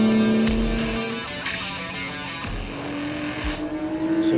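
BMW M Performance Parts Race Series cars rush toward the finish line with loud engine roar, rising pitch and brief tire noise as they pass close by.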